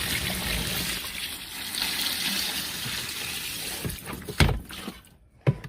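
Water pours from a bowl into a twin tub washing machine, a continuous trickling gush that ends with a couple of sharp knocks.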